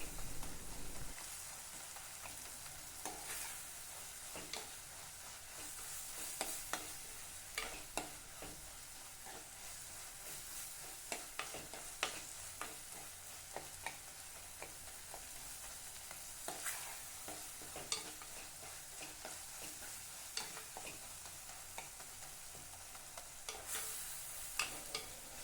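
Tomatoes are mashed and stirred in a frying pan of oil for a garlic thokku: a soft, continuous sizzle under repeated spoon scrapes and light taps that come at uneven intervals, with no voices.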